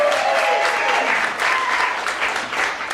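Loud, full applause from a live audience at a stage game show, continuous dense clapping with a few brief tonal squeals mixed in near the start.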